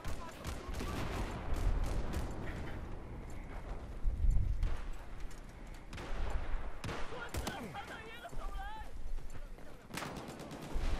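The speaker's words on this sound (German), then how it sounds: "Drei Schüsse über so eine Entfernung." Gunfire rattles through a Battlefield 4 match on the Hainan Resort map, scattered shots and bursts mixed with game noise, with a player occasionally talking.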